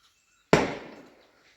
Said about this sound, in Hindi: वो लगा दिया पटाखा उन्होंने।